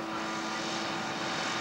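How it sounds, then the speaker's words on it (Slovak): A giant gasoline-powered aerobatic model airplane, built as a scale replica of a French aerobatic aircraft, flies at a model show with a steady, loud, buzzing propeller-engine drone that holds constant throughout, with no voices. "Model je poháňaný benzínovým leteckým motorom"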